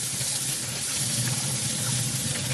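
Tap water runs steadily into a sink to soak 2-inch beveled acoustic foam panels, a continuous close rushing hiss with no talk.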